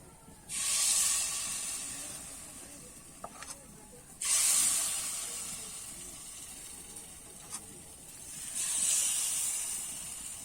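Rice-flour batter for chitoi pitha goes into a hot pan three times, each pour setting off a sharp hissing burst that slowly dies away. Faint knocks sound between the pours.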